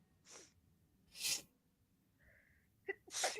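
A single sharp sneeze bursts out, bracketed by quick breaths and a soft snort, with quiet pauses between.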